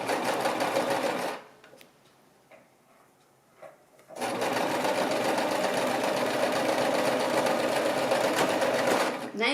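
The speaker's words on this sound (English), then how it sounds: "This is just straight seam sewing. Straight stitching." Sewing machine running a straight stitch along a seam, loud and steady, pausing briefly for about three seconds before stitching resumes continuously to the end; no talking.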